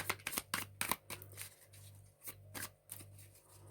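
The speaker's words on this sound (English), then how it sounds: "The cards are busy falling here." A deck of tarot cards being shuffled close up: quick bursts of soft riffling flutters and slaps in an irregular rhythm, fairly quiet, with no talking.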